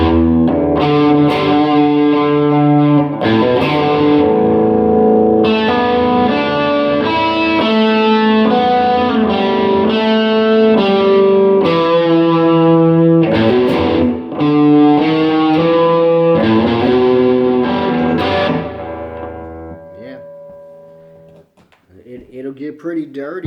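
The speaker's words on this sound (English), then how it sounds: "Let's hear what it sounds like with some distortion." A Westone Spectrum LX electric guitar on its humbucker, heavily distorted, playing sustained chords and riffs, loud and continuous for about twenty seconds before trailing off into a few quieter notes.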